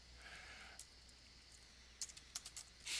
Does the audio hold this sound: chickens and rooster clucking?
no